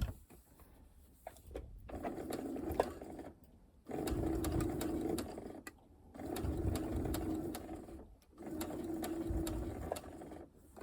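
A sewing machine stitches the centre-front seam of lace in three bursts of steady whirring, separated by short pauses, close and fairly loud with no talking.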